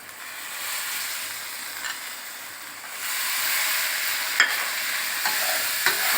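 Banana stem mixture frying in a pan for a Bengali dish with hilsa fish heads, a steady hiss of sizzling oil with faint scrapes and a few sharp clinks as it is stirred, fairly quiet and without talk.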